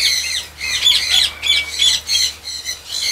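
Parrots in an outdoor bird enclosure squawk repeatedly during a heavy rainstorm, harsh close calls coming in uneven bursts with short gaps, alone with no talking.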